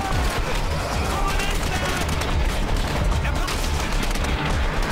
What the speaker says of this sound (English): Who's shooting at me right now?